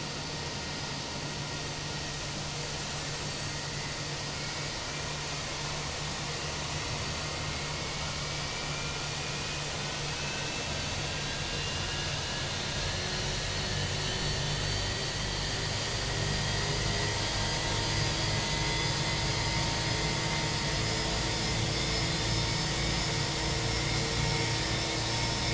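An Airbus A319 engine spools up in a flight simulator, a broad steady whine and rushing hum with slowly rising tones, building gradually louder over about twenty-five seconds with no voices.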